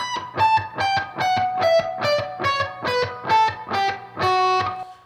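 A distorted electric guitar plays a run of about ten single notes stepping down the B natural minor scale on one string, each picked clearly with a steady rhythm.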